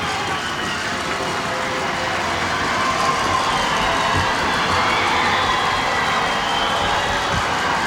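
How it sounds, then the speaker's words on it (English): A basketball crowd at a 1995 NZNBL game between the Nelson Giants and Northland Suns roars wildly, a loud, sustained wash of cheering that swells slightly midway and holds steady throughout. "Crowd going berserk down there."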